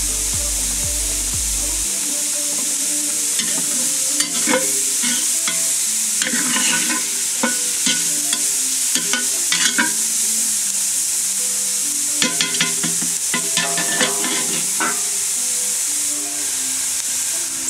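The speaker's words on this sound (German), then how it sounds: "Und das Ganze wieder schön anbraten." Onions and garlic fry in oil inside a Dutch oven while being stirred for beef goulash, a steady close sizzle broken by repeated scraping and clacking of the stirring utensil.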